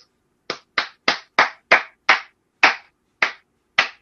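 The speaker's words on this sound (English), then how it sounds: "No one else is applauding it." A lone audience member at a Triplemania XXX wrestling event claps about nine times. The claps are crisp and evenly spaced, with no other applause or voices around them.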